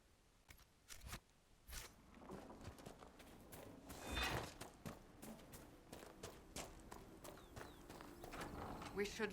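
Horse hooves in a video game clip-clop in an irregular walking rhythm, quiet and close, with a brief whoosh midway and faint background sounds.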